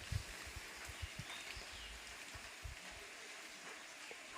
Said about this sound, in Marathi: वारा सुटलाय हा थंड हवा आली मस्त थंडगार वातावरण झालंय पावसामुळे